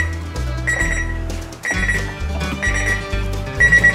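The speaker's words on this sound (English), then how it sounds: "you can hear the buzzer" A loud electronic kitchen timer buzzer beeps in repeated pulses, a steady rhythmic pattern of tones continuing throughout.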